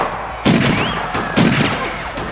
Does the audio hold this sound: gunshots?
yes